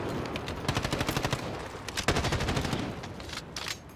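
Rapid bursts of gunfire from a .50 caliber sniper rifle in Call of Duty, tapped repeatedly in quick succession, loud and close, with several distinct shot clusters and no talk.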